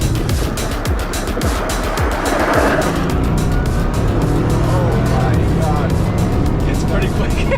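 A Bugatti Chiron Super Sport launches and accelerates hard, with a continuous loud engine roar and rushing tire and wind noise at close range. Excited voices talk over it throughout.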